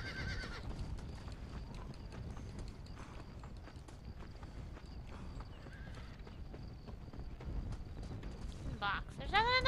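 Hooves clop steadily from a horse in Undead Nightmare, a continuous trotting rhythm kept quiet in the background, ending with a clear loud neigh.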